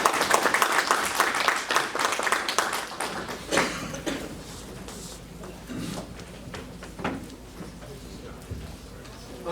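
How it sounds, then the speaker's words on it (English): Applause of welcome from a breakfast meeting audience, loud and dense at first, then thinning into scattered claps and small knocks as it fades, with people beginning to talk underneath. "Give him a big clap of welcome."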